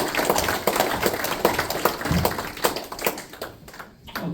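An audience at an OCSA club gathering claps in applause, a dense patter of many hands that keeps a fairly even level before thinning out near the end.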